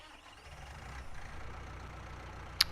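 Tractor engine in Farming Simulator 19 on the Euro Farms map, a low steady idling rumble running throughout the short stretch, with a sharp brief click near the end.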